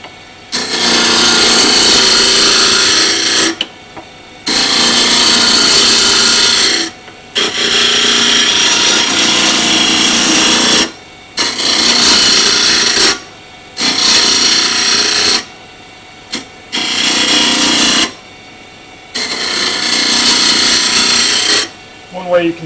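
Wood is turned on a lathe to shape a duck call, with a roughing gouge rounding the blank. Loud scraping, chattering cuts come in repeated passes of a few seconds each, separated by brief pauses.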